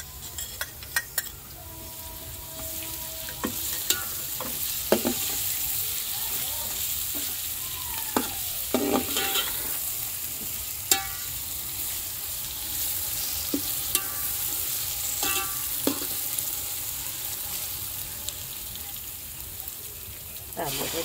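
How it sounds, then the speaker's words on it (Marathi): Onions fry with ginger, garlic and chili paste in a pan, a constant close sizzle broken by sharp clinks and scrapes of stirring, while a voice talks intermittently over it. "कांदा मस्त आपला तळून गेले. आता आपण त्यांना अद्रक लसूण मिरचीची पेस्ट टाकू."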